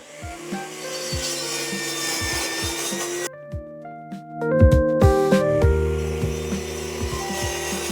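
A saw blade grinds through a truck chassis for a camper build, a harsh rasping drone that pauses briefly, then resumes with ringing metallic tones and heavy thumps, close and loud with no speech.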